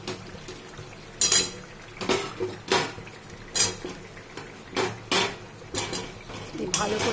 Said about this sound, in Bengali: আলুর সাথে মশলাগুলো ভালো করে কষে নেবো